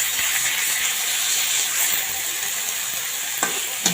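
Leafy amaranth greens fry in a pan with a continuous bright sizzle and hiss, steady throughout, ending with a couple of faint stirring clicks and no voices.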